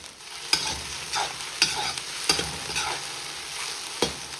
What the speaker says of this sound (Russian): Лук жарим до золотистого цвета.